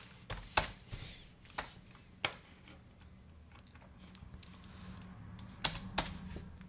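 Sparse keystrokes on a computer keyboard while a short line of script code is entered, isolated clicks spaced out with pauses between, over a faint low room hum.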